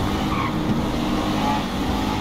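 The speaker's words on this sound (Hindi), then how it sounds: "निसान जीटी आ रहा है, आराम से चलेगी भाई" A Nissan GT-R driving in GTA 5, a steady loud engine drone with road and tire noise that holds unbroken throughout, close up.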